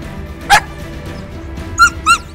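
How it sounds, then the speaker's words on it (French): A nervous, unsure dog gives three short, high, yelping barks, one alone and then two close together, near and fairly loud against a quiet room. "elle se met à aboyer avec la voix d'un chien qui est vraiment pas sûr de lui"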